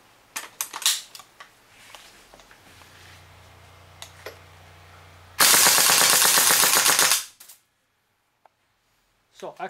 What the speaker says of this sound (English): Now we use .2 ppm green gas to test will we have the same result without the